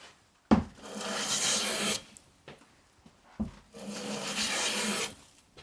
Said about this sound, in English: Sounds a bit like a TARDIS